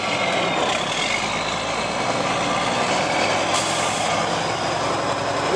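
A log truck backs up with its diesel engine idling in a loud, steady, close rumble, and a brief burst of air-brake hiss comes partway through.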